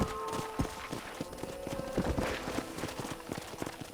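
A horse gallops in the Red Dead Redemption video game, quick rhythmic hoofbeats thudding steadily and close over a dense background of tack jingle and ambience.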